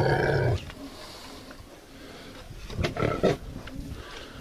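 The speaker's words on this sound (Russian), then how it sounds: "Это хряк." A breeding boar grunting in a pig pen, a few rough low grunts and snorts at moderate distance, following a loud opening noise, with faint farmyard shuffling in between.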